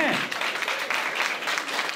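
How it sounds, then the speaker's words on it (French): Applause for Julie Séguin, the honoured company representative, at a community recognition event: a steady wash of clapping from a crowd, fairly close, running unbroken for a couple of seconds. "On peut l'applaudir, effectivement."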